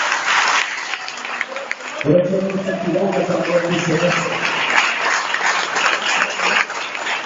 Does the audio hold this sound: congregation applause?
yes